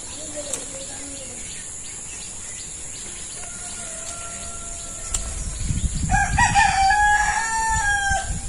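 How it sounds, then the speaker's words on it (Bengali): A rooster crows loudly and close by in a Bangladeshi village in the morning, its call rising over a steady hum of insects and faint outdoor background noise. "সকালবেলা মোরগের ডাকে ঘুম ভাঙিবে কি?"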